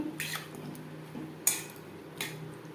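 Spices, onion and capsicum stirred in a pan for gravy chilli chicken, heard as a few sharp spatula clinks and scrapes against the pan, spaced apart over a quiet background.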